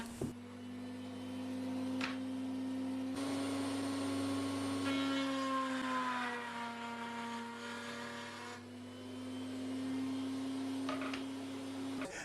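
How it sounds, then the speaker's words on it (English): Router table fitted with a 1/4 inch cutter grooving wood, with a saw fence as a guide: a steady motor whine with a strong hum, broken by brief cutting bursts as the workpiece passes. "Router table with a 1/4 inch router cutter, using my saw fence as a guide."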